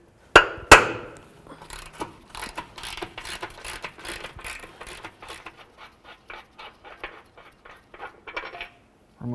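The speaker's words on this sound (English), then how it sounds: "To start, I'm going to take out this bolt right here. Use my 18mm." An 18mm wrench works a lower rear engine mount bolt loose on a 2007-12 Nissan Altima, two sharp metallic knocks opening a long run of quick, even ratcheting clicks up close.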